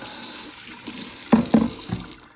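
Water runs and splashes briefly while rinsing out a De'Longhi Stilosa EC260BK espresso machine, a soft hissing flow with a few quick gurgling pulses close by.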